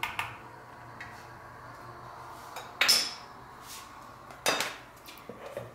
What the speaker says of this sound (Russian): Закрываем крышкой